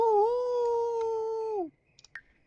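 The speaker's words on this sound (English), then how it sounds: "So you can howl over here." A Sims 4 werewolf lets out one long, steady, tonal howl that falls off at the end, followed by a few faint clicks.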